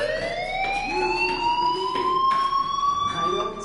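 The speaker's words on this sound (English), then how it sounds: "Hey, do you hear that fire alarm? That means you should be outside." A school fire alarm in the video game Life is Strange sounds continuously as a loud, steady electronic wail with a slowly rising pitch, with voices audible beneath it.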